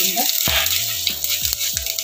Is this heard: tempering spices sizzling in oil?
yes